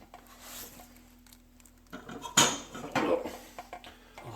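A spoon scrapes and stirs through Maris Otter grain mash along the bottom of a brewing pot, a soft clattering scrape that swells in the second half, close and fairly quiet.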